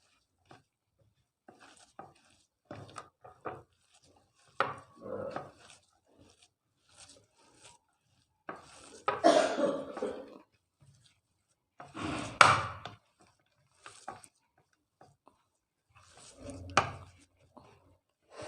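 Samosa dough being mixed by hand with cumin powder, turmeric and coriander: soft, intermittent rubbing and squishing bursts, quiet and close, separated by pauses of near silence.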